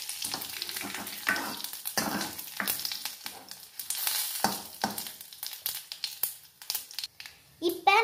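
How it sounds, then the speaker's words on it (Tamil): Curry leaves sauté in a pan for rasam, crackling and sizzling up close with stirring scrapes and rustles, a voice talking over it. "அப்புறம் இந்த மாதிரி வதக்கிக்கணும்."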